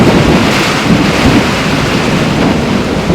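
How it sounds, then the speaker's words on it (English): Heavy downpour with rumbling thunder during stormy weather, a loud continuous roar of rain and low thunder filling the whole stretch with no voices. "this rain is freaking me out"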